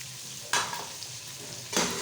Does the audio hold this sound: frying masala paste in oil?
yes